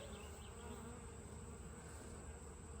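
A dense, steady hum of many honey bees buzzing together, continuous and unbroken, with no voices.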